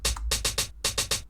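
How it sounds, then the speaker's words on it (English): Hi-hat repeating a tight rhythmic pattern in an indie pop rock beat made in FL Studio, short bright ticks in quick groups, fairly quiet and heard alone. "And then I have a hi-hat that I just put in a repeating pattern like this."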